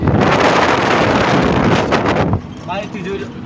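Wind buffets the microphone from a moving vehicle on the way to a Shiva temple, a loud rushing roar that drops off abruptly partway through, leaving quieter road noise.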